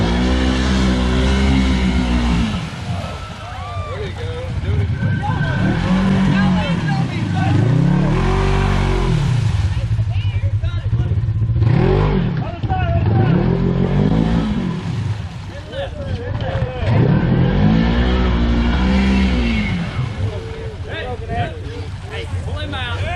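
An off-road vehicle's engine revs hard in four-wheel drive while stuck, rising and falling in repeated surges, loud and close, with people shouting and talking over it outdoors.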